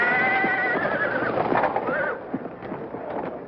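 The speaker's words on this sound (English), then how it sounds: "Hey, who's that black horse acting up?" A black racehorse at a racetrack starting gate gives a loud, close whinny that quavers and descends over about two seconds, followed by faint snorts and stamping.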